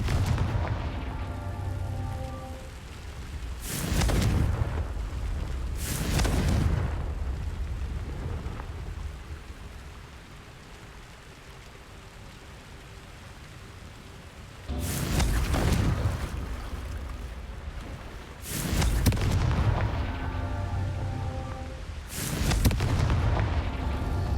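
Blasting-spell explosions in Hogwarts Legacy burst out as separate heavy booms, two early, then three more in a cluster later, each a loud rumbling blast fading into quiet ambience between.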